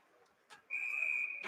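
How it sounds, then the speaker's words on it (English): A referee's whistle at an ice hockey game, one long sustained shrill blast lasting most of a second, clear over faint arena noise, with a brief thud on either side. "After the referee blew the whistle"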